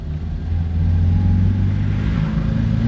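A Fiat 600 engine revving hard through the gears, a loud, steady, buzzing drone that holds close and continuous throughout.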